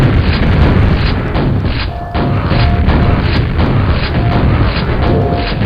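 Grenade launcher explosions booming in the Quake 4 level Ziggurat Vertigo, loud deep blasts rolling one after another with barely a break, over a constant din of combat.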